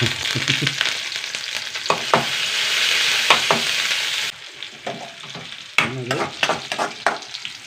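Green chillies and curry leaves frying in hot oil for a curry tempering, a loud close steady sizzle broken by a spoon scraping and stirring the pan, with crackles flaring again near the end.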